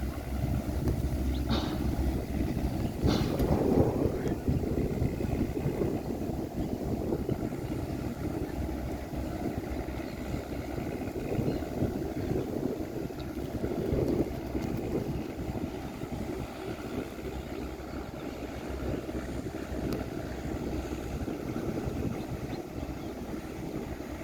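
A tugboat towing four heavily loaded barges on a windy river gives a steady low engine drone with wind noise, continuous and unbroken throughout.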